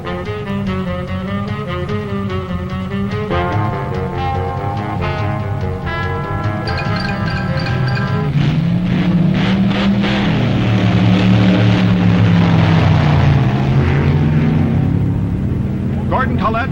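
A top gas dragster running at the 1965 NHRA Winternationals, its engine a loud sustained roar that rises in pitch as it accelerates, heard under narration on an old film soundtrack.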